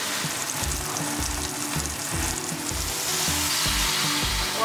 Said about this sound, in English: So you wanna do is sear skin side down, skin side first.